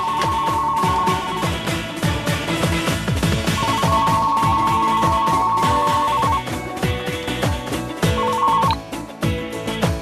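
A telephone rings in repeated electronic trills, fairly loud, over a busy background of rhythmic clattering music.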